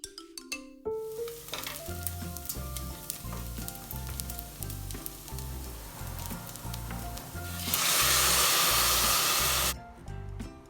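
A red lentil and rice soup base sizzles in a pot while being stirred, with steady frying crackle, spoon scrapes and clinks, then a louder surge of hissing near the end.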